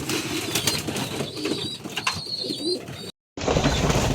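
Pigeons in a newly built loft coo and rustle close by, with low throaty coos, a few chirps and wing flaps over busy background noise, cut by a brief silent gap near the end.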